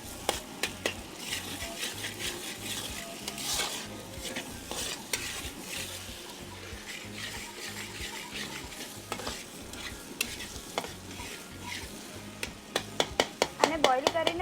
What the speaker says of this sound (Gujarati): બસ થોડી વાર સુધી આપણે આને શેકાવા એને દેવાનું છે.